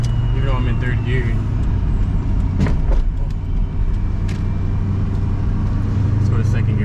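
A car fitted with a 78 mm BBK throttle body drives on a highway in third gear with its engine hanging near 2000 rpm, producing a steady loud drone and road rumble, joined by passing traffic noise.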